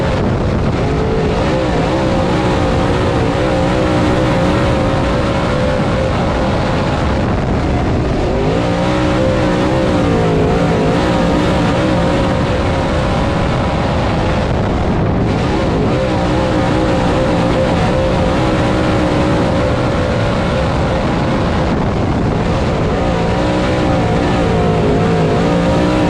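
Dirt-track race cars roar around Swainsboro Raceway in a loud, continuous pack, engines droning and surging as they power through the turns with no break in the noise.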